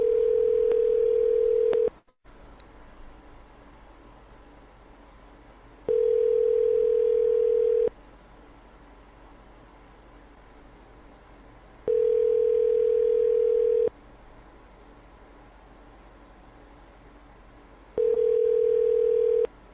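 A telephone ringback tone sounds as a call is placed: a steady, clear purr about two seconds long that repeats four times with roughly four-second silences between rings.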